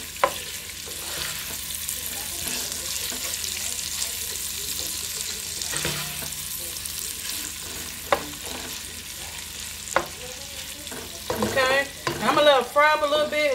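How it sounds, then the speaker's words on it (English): Seasoned ingredients frying with bacon in a pot give a continuous sizzle with light stirring clicks, and a few sharp whistling or squeaking tones rise near the end. "Let them fry up with the bacon."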